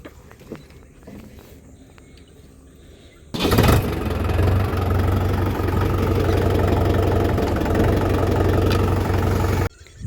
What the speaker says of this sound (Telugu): ఈ మడి కరిగట కొట్టడం అయితే అయిపోయింది ట్రాక్టర్ అయితే అక్కడే పెట్టేసిన